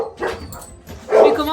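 Sled dogs bark before a training run, two loud, close bursts of barking separated by a short pause.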